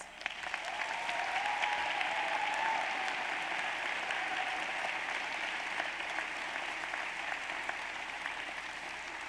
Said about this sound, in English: Please give these graduates a round of applause